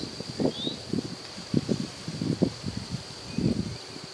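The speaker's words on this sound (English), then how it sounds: "That wind's picking up." Wind gusts through trees at an outdoor hunting shoot house, leaves rustling in bursts of several swells over a steady breezy background, moderately near, with no talk.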